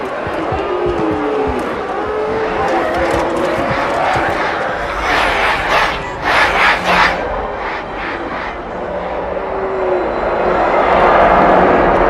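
A large crowd roars and cheers in a Halo 2: Anniversary cutscene over a dense background din, with swelling bursts of shouting and a voice talking briefly.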